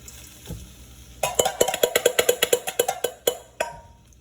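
Cooked rice scooped slowly into a hot pan for spicy bacon and egg fried rice, with a quick run of sharp metallic scrapes and taps close by over a faint sizzle.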